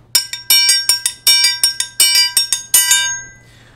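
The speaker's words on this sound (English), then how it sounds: "Here's a Brazilian style triangle." A Brazilian-style triangle from a baião ensemble rings out in bright, quick metallic strikes, playing a steady sixteenth-note pattern with an open accent on each beat, heard clearly and alone before the ringing fades.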